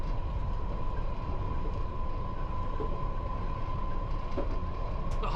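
A London Underground Piccadilly Line train runs with a steady, loud rumble, a sustained high whine, and faint clicks and rattles throughout, with no talking.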